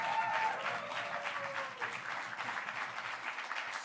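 A crowd at a poetry slam event claps steadily and fairly faintly for a few seconds, with a brief high whoop cutting through near the start.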